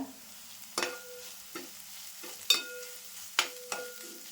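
Curry leaves go into hot oil with ginger-garlic paste for a Malvani dry clam dish, a soft sizzle with several sharp utensil clinks and stirring scrapes at irregular intervals, close by.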